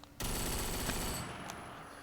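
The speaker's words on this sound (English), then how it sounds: "And I can shoot stuff." A loud, sudden blast of gunfire in a Unity-made video game, a dense rattling burst that holds steady, then eases into a fading ring; no talking.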